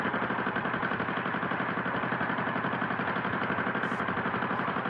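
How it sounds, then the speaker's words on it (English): A loud car engine in a 1976 film rumbles and clatters steadily at idle, a dense, unbroken drone with a fast regular pulse throughout. "You're gonna have to get that engine checked."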